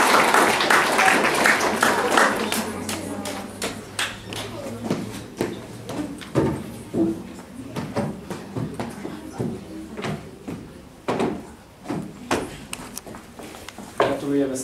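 Scattered applause from a small audience at a children's literary contest award ceremony, loose individual claps that start under an announcer's voice and continue unevenly, fading and resurging over about fifteen seconds.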